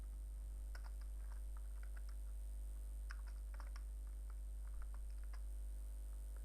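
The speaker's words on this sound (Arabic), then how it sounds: "نكتب الكود هذا حتى نبحث عليه" Computer keyboard typing code, light irregular key clicks in short clusters over a steady low electrical hum, quiet and close.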